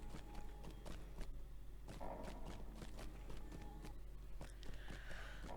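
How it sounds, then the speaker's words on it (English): A horse in the video game Lord of the Rings Online, with quiet, steady clip-clop hoof steps repeating close by over a low hum, faint and without voices. "Well, hi horse butt."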